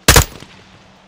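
A single loud, close burst of gunfire from the Modern Warfare 2 campaign, a sharp blast that rings briefly and fades into a low tail.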